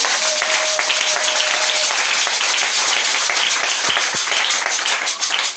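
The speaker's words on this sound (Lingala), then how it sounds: "Acclamons le Seigneur Jésus-Christ." A church congregation applauds in steady, dense clapping that fills the space from start to finish, loud and close, with no speech over it.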